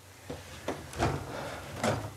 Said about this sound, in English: My little chest of drawers right there.